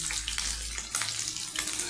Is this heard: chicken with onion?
yes